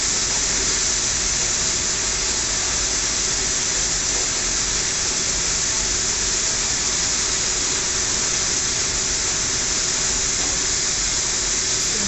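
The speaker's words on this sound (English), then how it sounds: "Trap is blowing, leaking, blowing, leaking, blowing." A thermostatic steam trap blows and leaks steam, a loud, steady broadband hiss that continues unbroken through the whole clip with no voices.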